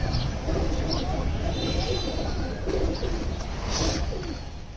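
Pigeons coo in low, soft throaty calls against a continuous background murmur, with a few brighter chirps now and then.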